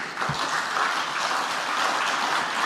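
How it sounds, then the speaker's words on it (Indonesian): Thin, unenthusiastic applause from a party congress audience in Indonesia, a steady patter of scattered clapping that carries on for a few seconds without building. "tepuk tangannya aja nggak meriah"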